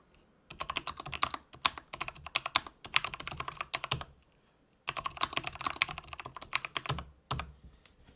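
Rapid typing on a Filco Minila mechanical keyboard with Cherry Brown switches: close, crisp clustered keystrokes in two long bursts separated by a brief pause, ending with a few isolated presses.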